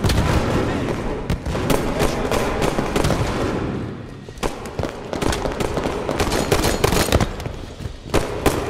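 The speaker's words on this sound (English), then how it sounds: "Grenade!" Explosions and gunfire in a Halo 5 Guardians Slayer multiplayer match: a dense, continuous barrage of blasts and sharp cracks, loud and close, with a brief lull midway before the heavy bursts resume.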